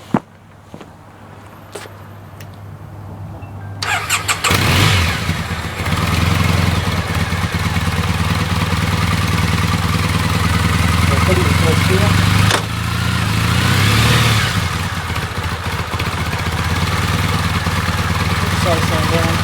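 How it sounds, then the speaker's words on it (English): A Triumph Bonneville motorcycle engine starts and idles steadily, loud and close, running for most of the stretch with a brief dip midway and some handling clatter around it. "I can demonstrate that by running the engine and then putting the side stand down."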